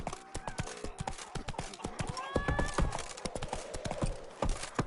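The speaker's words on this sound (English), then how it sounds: "Slow now. Whoa. Faster. That's it, Roach." Galloping hoofbeats of a horse in a video game, a fast clip-clop rhythm throughout with a brief whinny in the middle, while a voice talks over it.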